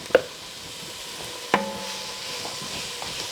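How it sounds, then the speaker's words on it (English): Flour stirred into chowder in a pot, two sharp utensil knocks against the pot over a steady soft scraping and faint hiss, close and fairly quiet, no voices. "let's do about 1/3 cup of flour and just kind of stir that around"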